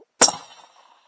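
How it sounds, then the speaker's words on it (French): A bullet ricochets off a metal target at an outdoor shooting range: one sharp ringing clang that decays over about a second, with a faint trace of sound just before it. "joli ricochet sur la gauche"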